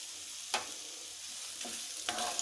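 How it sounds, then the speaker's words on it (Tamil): Radish, curry leaves, ginger, garlic and dried chillies frying in a pan for mullangi chutney, a faint steady sizzle broken by three sharp stirring scrapes. "இதில் நம்ம வெட்டி வச்சுருக்கிற முள்ளங்கி, கருவேப்பிலை, இஞ்சி பூண்டு, காஞ்ச மிளகாய் இதெல்லாம் வதக்கிக்கலாம்."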